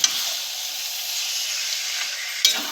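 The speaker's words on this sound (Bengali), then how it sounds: "এবার এটাকে ভালো করে কষিয়ে নেব মাংসটাকে মশলার সাথে।" Chicken sautéing with spices in a pan, a steady close sizzle and hiss that runs throughout, with a brief scrape of stirring near the end and no talk.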